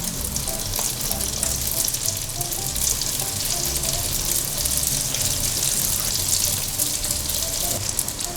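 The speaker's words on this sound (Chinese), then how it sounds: "用小火慢慢炸" Carrot doughnuts deep-frying slowly in oil over low heat, a steady bright hiss and crackle of bubbling oil that holds evenly from start to finish, close up with no talking.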